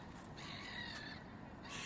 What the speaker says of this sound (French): Un drôle de bruit d'oiseau bizarre.